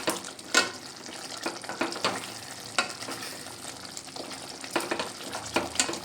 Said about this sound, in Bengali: ভালো করে নেড়ে চেড়ে দেবো যাতে ঘিটা পুরো কচুর দমের